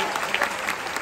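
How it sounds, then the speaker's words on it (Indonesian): A seminar audience in Jakarta breaks into dense, steady applause, a wash of many hands clapping at once with faint crowd murmur beneath. "Tepuk tangan biar semangat jelas"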